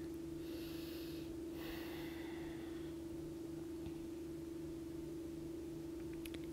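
Deep, slow breaths during a seated chair yoga routine, soft and close, a few breath bursts early on over a steady low electrical hum with no talking.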